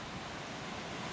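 Heavy ocean surf roars continuously during a typhoon, a dense steady wash of crashing waves and wind noise with no voices, filling the whole stretch at even loudness.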